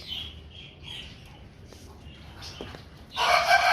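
A young rooster gives a few soft clucks, faint and close. A brief loud burst of noise at the very end cuts across them.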